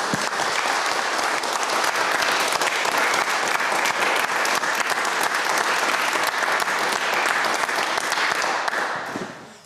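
Sustained applause from a forum audience thanking the presenters, a dense, steady wash of clapping at close range that holds evenly for about nine seconds before tapering off at the end.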